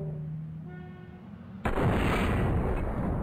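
A grenade goes off in a shooter video game, one sudden loud blast cutting in partway through and its rumbling roar filling the rest of the clip after a quieter stretch of game tones.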